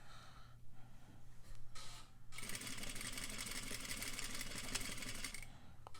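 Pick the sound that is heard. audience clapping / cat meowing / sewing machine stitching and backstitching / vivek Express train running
sewing machine stitching and backstitching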